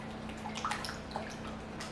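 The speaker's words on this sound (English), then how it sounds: "Then you're going to take your mixture that you have and you're just going to pour" Wet peach cobbler batter is poured into a baking pan, a soft continuous glugging and dripping with small splashes, fairly quiet over a low kitchen hum.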